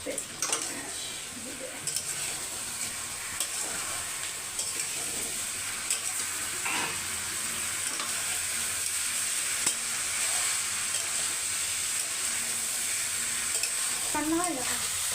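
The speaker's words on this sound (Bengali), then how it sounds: "গোবিন্দভোগ চাল, আলু, মাছের মাথা খুব ভালোভাবে মিক্স করে নিয়েছি" Gobindobhog rice, potato and katla fish head frying in a pan while being stirred, a continuous close sizzle with scraping and stirring sounds throughout.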